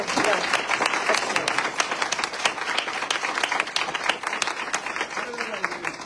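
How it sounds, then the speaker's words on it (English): Brisk, sustained clapping from a room full of people at a judicial forum, a dense crackle of many hands at steady loudness with a few voices mixed in. "Would all of you join me in giving a round of applause?"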